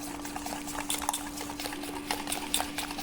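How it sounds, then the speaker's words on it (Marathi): Dhokla batter made with puffed rice is whisked briskly in a bowl, a quick run of soft, rhythmic scraping and clicking strokes over a faint steady hum. "आपण फेटून घेऊया."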